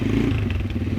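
A Yamaha dirt bike engine running through a new stock exhaust, loud and close with a rough, clattering idle that throbs steadily and carries no voices.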